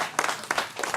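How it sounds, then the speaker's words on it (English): A council meeting audience claps for a report, a short burst of applause with a few sharper peaks, fairly close and without talk. "Clapping for a CPA report."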